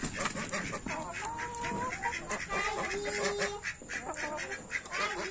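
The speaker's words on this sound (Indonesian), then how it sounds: "Ayam bebek." Chickens and ducks in a backyard pen cluck and quack together, a busy, fairly close flock chorus with calls overlapping throughout and no clear speech.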